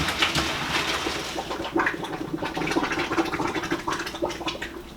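Cooked cauliflower is drained into a colander in a kitchen sink, with a continuous splashing gush of water and a gurgling, bubbling rush from the drain, close and steady for several seconds with no talking.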